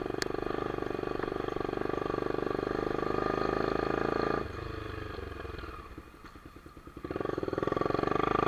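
A motorcycle engine runs steadily up close on a ride after rain, a continuous droning rumble that dips briefly as the throttle eases, then swells back to full strength, with no talking over it.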